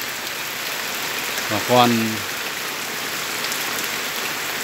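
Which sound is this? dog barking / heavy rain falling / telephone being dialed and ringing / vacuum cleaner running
heavy rain falling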